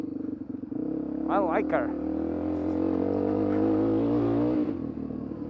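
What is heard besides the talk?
dirt bike engine while riding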